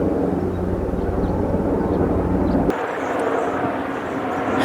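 A helicopter passes overhead near a casino poker tournament, a steady loud rotor-and-engine drone that holds through the whole stretch with a slight shift partway, with no talking over it.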